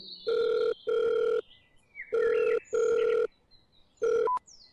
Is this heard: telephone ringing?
yes